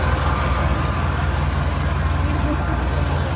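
A large truck's engine rumbles in a steady, loud, low drone close by, with no break in the sound while voices talk over it.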